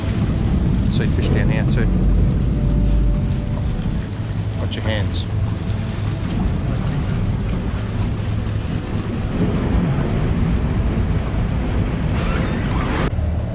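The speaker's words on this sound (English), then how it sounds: "It's a little tinny we came across in." Small aluminium tinny boat crossing open water to Woody Island, with a steady engine drone mixed into heavy wind buffeting and the wash of the water, while people talk briefly over the noise.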